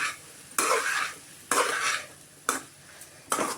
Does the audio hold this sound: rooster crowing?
no